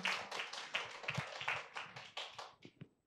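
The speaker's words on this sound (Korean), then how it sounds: "두 분께 다시 한 번 큰 박수 부탁드리겠습니다." A small forum audience claps for two speakers, a close, fairly sparse patter of individual hand claps that thins out and ends with a few last claps before silence.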